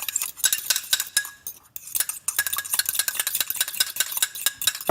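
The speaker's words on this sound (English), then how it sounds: "You just mix it well." Egg yolk and yogurt being mixed in a bowl, a utensil clinking and scraping rapidly and continuously against the sides, close and fairly loud, with a brief pause partway through.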